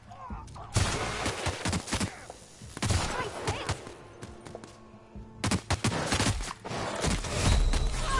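Bursts of gunfire in The Outer Worlds video game, with clusters of rapid shots separated by short pauses, loud and close throughout.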